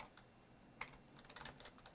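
Typing on a computer keyboard, a short burst of quick, light key clicks with one sharper tap near the start, close and fairly quiet, with no talking.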